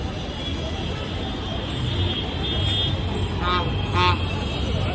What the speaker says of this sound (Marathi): तुम्ही ट्रॅफिक लागलेली आता रोड क्रॉस करून घ्या